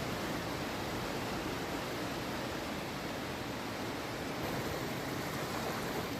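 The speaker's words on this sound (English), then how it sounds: "The Chenab River is roaring right now." The swollen Chenab River roars through the open gates of the Salal Dam after heavy rain, a dense, constant rush of water filling the sound without a break and with no voices.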